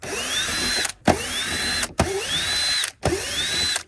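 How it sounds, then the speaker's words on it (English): Cordless power driver backing four T15 screws out of a car side-mirror motor, four steady whirring bursts of about a second each with a rising whine, separated by brief pauses, close and loud, no talking. "There's another 4 T15 screws. They're pretty easy to see. Just take them out."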